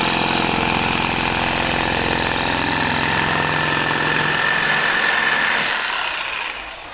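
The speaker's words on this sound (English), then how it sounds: "I've got the jigsaw set to quite a slow speed, and I'll just chop the end of this board off" A jigsaw running at slow speed with a Bosch soft material blade saws through PIR insulation board, a loud, close, continuous rasping drone that winds down at the end.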